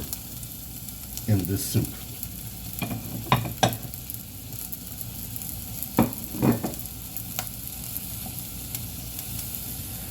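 Red onions fry in a pan for black bean soup, a soft sizzle running underneath while a spoon clatters and scrapes in several bursts of stirring, and a person speaks briefly.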